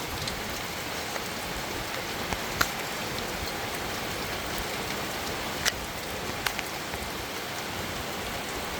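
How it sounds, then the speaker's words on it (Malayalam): Heavy rain pours down outside a house window in Kerala in a steady, dense hiss, with a few sharper drops and patters standing out now and then. "നല്ല മഴ പെയ്യുന്നുണ്ട്"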